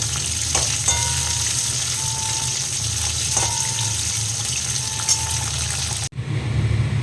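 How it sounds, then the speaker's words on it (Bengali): Cauliflower deep frying in a batch of hot oil, a loud, steady, dense sizzle and bubbling that fills the whole stretch, with faint occasional clinks, close by and continuous until a brief cut near the end. "অল্প অল্প করেই এটা ভাজতে হবে।"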